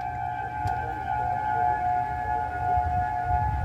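Civil defense sirens sound a tornado warning outdoors, a loud steady wailing tone that holds throughout with low wind rumble beneath.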